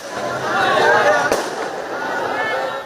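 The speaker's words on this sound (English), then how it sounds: "Some protesters have used fireworks and thrown stones at police" Fireworks set off by protesters during clashes with police in Indonesia crackle and pop through a dense, loud outdoor din with voices mixed in, and one sharper bang stands out midway.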